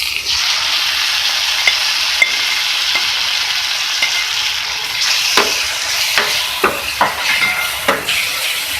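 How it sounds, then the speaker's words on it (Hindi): Eggplant and tomato for baingan bharta sizzle in a frying pan as a spatula stirs, a constant bright hiss with metal scrapes and taps growing more frequent toward the end. "सही से मिक्स कर लें।"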